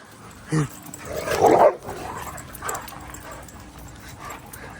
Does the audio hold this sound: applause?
no